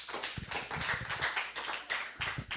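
A church congregation claps in scattered, uneven bursts that swell and fade, with sharp hand claps close together, heard on their own without talk.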